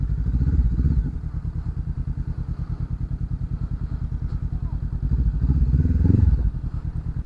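A motorcycle engine chugs with a steady rapid pulse throughout, loud and close, as if heard from the rider's seat on a long road trip to Pagudpud, Ilocos Norte, rising briefly near the start and end.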